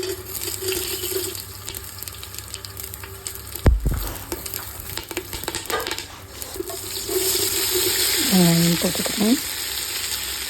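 Tempering spices sizzle in a pan beside rice being cooked, a continuous close crackle broken by a sharp clunk partway through, with a brief tonal sound near the end.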